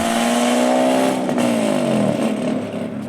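A loud straight-piped BMW V12 exhaust drones and revs raspily, pitch rising and dipping as the engine works, close by and steady throughout.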